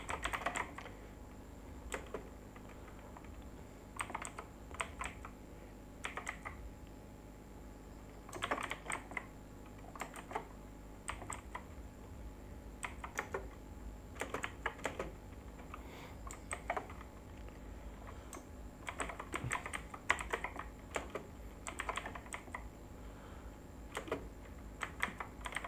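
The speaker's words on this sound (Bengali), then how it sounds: "এখন আমরা আরেকটা জিনিস করব" Steady bursts of computer keyboard typing while code is written during a TypeScript and ts-node setup, with clustered key clicks separated by short pauses, close and fairly quiet, with no talking.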